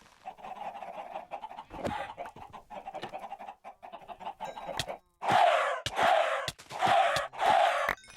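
Chickens clucking in the video game Minecraft SkyFactory, a dense flock with repeated clucks that give way to several loud, bursting squawks near the end, all close and without talk.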